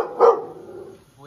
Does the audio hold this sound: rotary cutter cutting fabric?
no